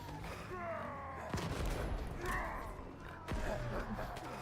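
Bombardment explosions in a first-person shooter: two sharp blasts about two seconds apart, each followed by rumbling debris, over a constant background of game noise and distant gunfire.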